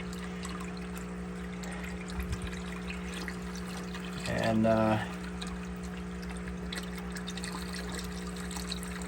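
Water poured into a container to rinse a pump intake strainer for a planted aquarium, a short splashing burst of a second or so over a steady low hum, with a voice briefly in the background.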